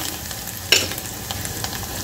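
Coriander sautéed in a tempering for rice, soft steady frying crackle with one sharp spatula clink near the start and faint scraping after.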